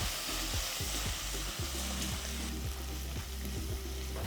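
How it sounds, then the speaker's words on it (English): Onions and green chillies sauteing in a pressure cooker for chicken pulao, a dense, steady sizzle with repeated scraping stirs throughout, close and fairly loud. "Continue to saute."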